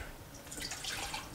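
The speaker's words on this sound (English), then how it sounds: "Take a cup of water, just your regular tap water" Regular tap water pours from a kitchen faucet into a cup, a faint, short splashing trickle heard close up, with no talk.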